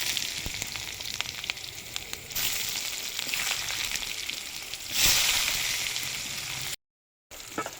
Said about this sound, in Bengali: একটু শুকনো লঙ্কা ফাটিয়ে দিচ্ছি। দিয়ে দিচ্ছি গোটা জিরা, কোচানো পেঁয়াজ